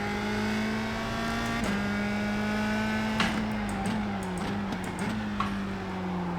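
A USF 2000 race car engine at Tsukuba in a racing game holds a loud, steady buzzing tone, with small pitch dips as the throttle lifts and a few sharp clicks and knocks over it.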